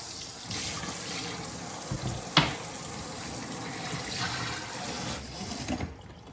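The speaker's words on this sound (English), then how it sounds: "wash off this cutting board because we got some kidney on it" Tap water runs steadily into a sink while a cutting board with bits of carp kidney on it is rinsed, a continuous close splashing with a brief clatter partway through.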